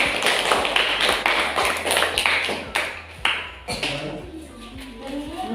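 Pupils in a classroom clap for a student group, a loud, brisk patter of many hands with sharp individual claps standing out, thinning briefly midway before picking back up.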